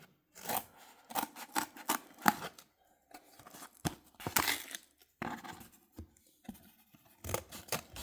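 Scissors snip through material to cut a second piece matching the first, in bursts of short crisp cuts with pauses and faint rustling between them, close and quiet, with no speech.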